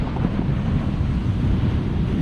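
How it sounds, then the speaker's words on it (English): Big sea waves surging and breaking on a beach at South Withernsea during high tide, a steady loud roar of surf mixed with heavy wind buffeting the microphone throughout, with no talking. "They are big waves."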